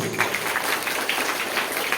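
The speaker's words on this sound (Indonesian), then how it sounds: "Tepuk tangan dulu untuk Pak Dusun." An audience claps for the village head at an Isra' Mi'raj religious gathering in a mosque, producing a steady, fairly faint wash of applause with a few sharper claps rising out of it, and no voices over it.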